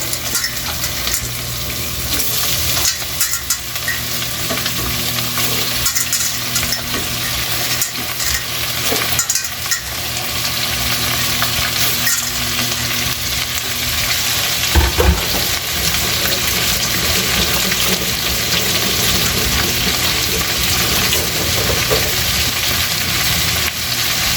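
Beef skin sizzles and crackles steadily in a hot pan while it is stirred, with occasional scrapes and knocks of the utensil over the continuous close frying hiss.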